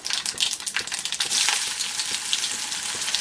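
Chopped onion with curry leaves and popped mustard seeds fries in hot oil, a dense close sizzle with crackles and scraping stirs throughout, for a Tamil bitter gourd gravy, no voices.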